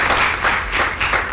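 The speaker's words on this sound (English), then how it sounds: "let us give Obi a round of applause for that wonderful speech" Brief burst of audience applause following a speech at an agricultural roundtable, dense and steady clapping close by for just over a second.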